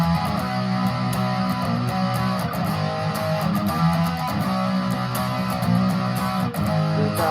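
A distorted electric guitar plays a riff, a dense, continuous, loud chugging tone that holds steady throughout with no talking.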